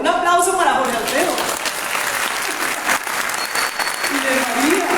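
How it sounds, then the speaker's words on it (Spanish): Applause from an audience at a book launch, steady clapping that continues throughout while a person speaks over it. "un aplauso para Jorge Alfredo"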